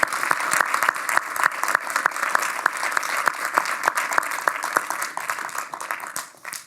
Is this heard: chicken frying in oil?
no